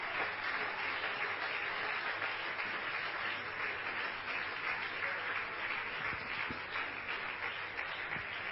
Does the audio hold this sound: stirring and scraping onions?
no